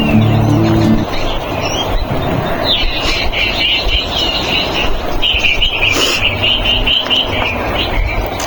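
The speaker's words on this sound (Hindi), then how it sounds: "रियल आवाज में आपको मैं चिड़ियों की चहचहाहट और यहाँ के नज़ारे दिखाऊंगी।" Morning birdsong rings out in a hilly setting, with repeated high chirps and trills over a steady wash of background noise and a low hum at the start.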